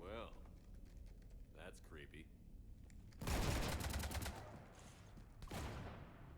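Gunfire in the video game Mass Effect 3, a burst of rapid automatic shots after a stretch of game chatter, with another short volley near the end and talk heard early on.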